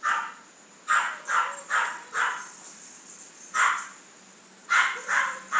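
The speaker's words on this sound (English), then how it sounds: "When those dogs gonna stop at this moment?" Several dogs barking in short repeated bursts, clustered into groups with brief pauses between, moderately loud at a middle distance with no talk over them.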